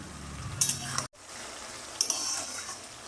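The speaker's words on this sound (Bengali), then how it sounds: "বেরেস্তাটা সবসময় নাড়তে হবে, যতক্ষণ না গোল্ডেন ব্রাউন হয় ততক্ষণ নাড়তে হবে" Sliced onions for beresta frying in oil are stirred for chicken korma. The bubbling hiss carries a few sharp utensil clinks against the pan and breaks off briefly partway through.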